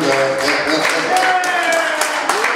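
An audience at a tribute evening in Toronto applauds loudly, with steady, dense clapping mixed with voices and music throughout.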